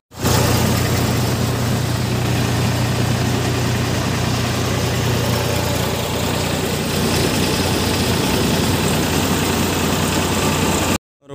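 A tractor engine idles steadily in a mustard farming setting, a constant low rumble with mechanical vibration running loud and close throughout before cutting off at the end.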